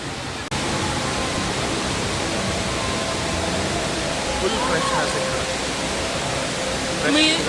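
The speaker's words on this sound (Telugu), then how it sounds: "సో మేము వాటర్ ఫాల్కి వచ్చాం." The indoor waterfall at Dubai Mall pours as a steady, broad rush of falling water that fills the space, with faint murmurs of surrounding crowd beneath it.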